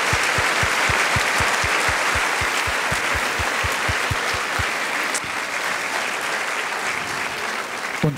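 Sustained audience applause for a host family at an equestrian event in Perl, dense crowd clapping throughout with a regular low thumping beat in the first half before settling into plain clapping.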